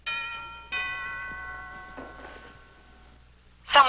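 A two-tone doorbell chimes at a house door, two clear ringing strikes that sustain and fade, followed by a brief noisy burst at the end.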